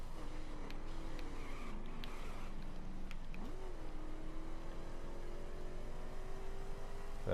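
A Corvette in the racing game The Crew drives with a continuous engine drone that rises and falls in pitch as it revs, holding a steady mid-level roar throughout.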